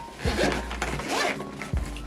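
The zipper of a hard carrying case for a Nintendo DS/3DS is pulled open in a few quick rasping strokes, close by, with light handling noise around it.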